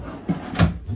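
A wooden dresser drawer in the bedroom of a 2023 Salem Hemisphere 308RL fifth wheel RV slides and bumps shut, giving two or three short, close knocks within a second.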